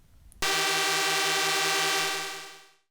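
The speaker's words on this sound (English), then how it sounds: "and the Legislative Council bells sound like a buzzer." Legislative Council division bell sounding as a buzzer: a harsh, flat electric drone starts abruptly after a brief quiet moment, holds steadily, then tapers away, heard alone.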